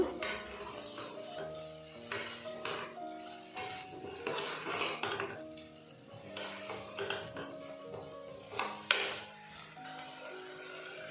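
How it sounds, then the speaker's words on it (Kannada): Sprouted horse gram sambar being stirred in a metal pot, a spoon scraping and clinking against the sides in uneven bursts, with faint sizzling underneath and tonal background music. "ಈಗ ಒಂದ್ಸರಿ ಚೆನ್ನಾಗಿ ಮಿಕ್ಸ್ ಮಾಡಬೇಕು"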